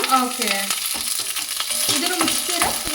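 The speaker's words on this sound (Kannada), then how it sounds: "ಸಾಸಿವೆ ಚಟಪಟ ಅಂತು. ಇವಾಗ ಕರಿಬೇವು ಹಾಕೊಂಡ್ಬಿಡೋಣ." Mustard seeds and curry leaves sizzle in hot sesame oil on a gas stove, a dense close crackle with a few scraping stirs and faint sputtering pops, no voices.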